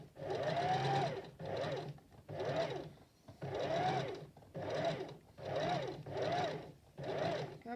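A sewing machine stitches doll fabric in short runs, about eight bursts of rapid whirring with brief pauses between, close and clear with no talking.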